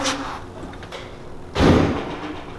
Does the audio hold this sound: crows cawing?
no